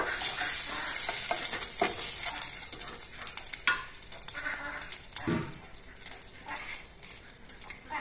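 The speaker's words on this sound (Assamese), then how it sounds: "কণীকেইটা ফ্ৰাই কৰি লওঁ।" Eggs fry in a pan with a busy, crackling sizzle and frequent scraping stirs, loud and close, with no talking.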